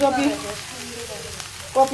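Chinese-style fried rice with egg frying in a pan, a short burst of close crackling sizzle with stirring, while a voice faintly speaks at the start and end.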